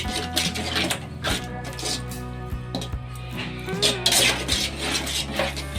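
Egg bhurji frying and being stirred in a pan for egg rice, with steady sizzle and repeated scraping and clinking of a spatula against metal, close and continuous.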